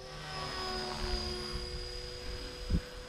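A large Blade 330S RC helicopter flies with a steady high-pitched rotor and motor whine, holding even and moderately loud with a brief thump near the end.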